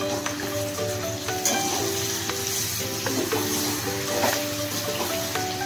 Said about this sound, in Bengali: এখন এই চিকেনটার মধ্যে আমি কয়েকটা দেব কারি পাতা আর 3টে কাঁচা লঙ্কাকে চিড়ে আমি 2 মিনিট আবারও ভেজে নেব।